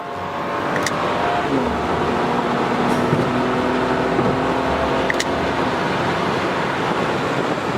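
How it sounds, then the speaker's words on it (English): A BMW 335i in sport mode pulls hard after a downshift to third gear, its engine note droning steadily and climbing in pitch under a constant wash of road and wind noise, with no talk. "Alright, let me downshift in sport mode. 4th gear, 3rd gear."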